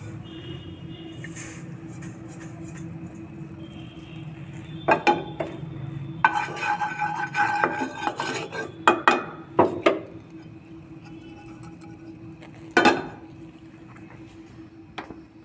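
A spoon scrapes and stirs semolina roasting in ghee in a kadai for halwa, with soft shuffling under a faint steady hiss and several sharp clinks against the metal pan.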